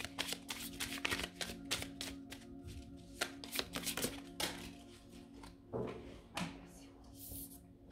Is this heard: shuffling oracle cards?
yes